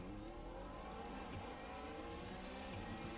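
Race cars in iRacing pulling away from a standing start, a steady mid-pitched engine drone and whir rising slightly as they accelerate off the line, continuous and fairly faint with no talk.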